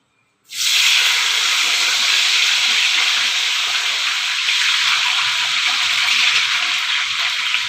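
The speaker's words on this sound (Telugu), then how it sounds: "తర్వాత మనం తరుక్కున్న పొటాటోస్ని చిన్నగా దీంట్లోకి వేయాలి" Sliced potatoes hit hot deep-frying oil in a kadai with a sudden loud burst of hissing sizzle, then a steady, dense frying roar that holds for several seconds without any voices.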